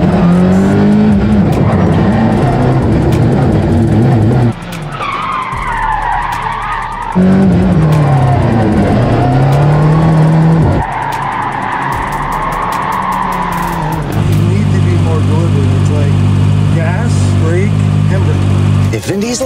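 A Hoonicorn Mustang doing donuts, its engine roaring loud and close as the tires squeal in long sustained skids that rise and fall in pitch, with short gaps between passes.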